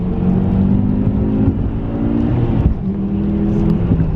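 Engine of a European driver's car pulling away and accelerating during a ride, its tone climbing and falling through shifts, loud and close from inside the cabin with no talk.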